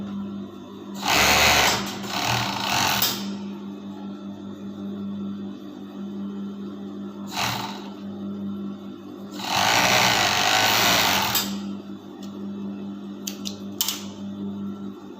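A sewing machine stitching a fabric bodice runs in loud, close bursts of rapid mechanical whirring, two long runs and a short one separated by quieter pauses with faint handling noise.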